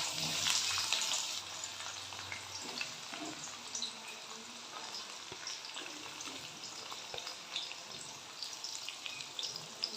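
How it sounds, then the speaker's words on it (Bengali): A good handful of onions dropped into hot oil gives a loud burst of sizzling that settles into a steady, crackling fry with scattered pops. No voices. "প্রথমেই তেল গরম হয়ে গেছে, আমি এর মধ্যে বেশ খানিকটা পেঁয়াজ দিয়ে দিচ্ছি"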